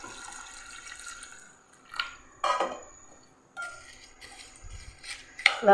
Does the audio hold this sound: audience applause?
no